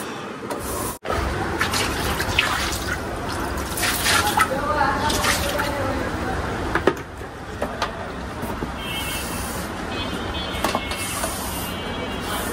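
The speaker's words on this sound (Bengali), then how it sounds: "এই বারান্দাটাও ধুয়ে ফেলি।" Water splashes and drips across a balcony floor being washed, with a continuous wet sloshing texture, some brief scrapes and pours, and someone talking over it throughout.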